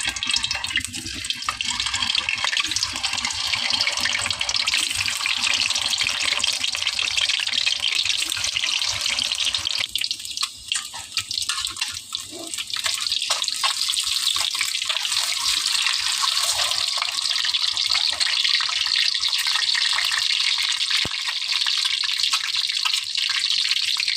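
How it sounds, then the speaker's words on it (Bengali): Boiled eggs frying in oil in a pan for an egg curry with potato and papaya. A loud, steady sizzle holds throughout, dips briefly, then carries on without a break, and no one speaks. "এখন ডিমগুলো ভালো করে ভেজে নিব"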